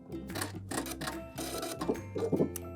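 Domestic sewing machine back stitching knit fabric for high-waisted panties, a few short bursts of rapid mechanical whirring and needle clatter with small pauses between runs, close and quiet.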